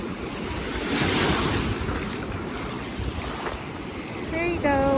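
Ocean waves break on the shore at Cheticamp Beach in Cape Breton, a steady roaring wash of surf mixed with wind noise, with a few sharp bird cries near the end.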